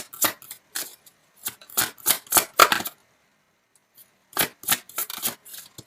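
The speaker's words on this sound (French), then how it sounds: "je vais sortir une carte supplémentaire" Tarot cards drawn and shuffled from a deck: a run of crisp papery swishes and snaps in irregular bursts, close and fairly loud, with a short quiet gap in the middle.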